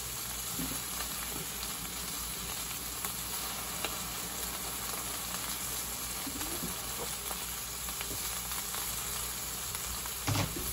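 Steak and mushrooms with seasonings sizzle in a pan in a cooking video game, a steady close frying hiss with faint stirring clicks and no talk.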